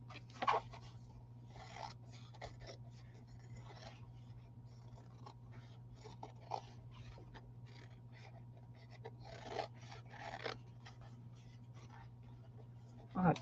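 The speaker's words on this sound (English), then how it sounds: "I'm just drawing these lines on here to kind of give me a guide." A pen scratches guide lines onto paper for a farm journal, quiet intermittent strokes close by over a steady low hum.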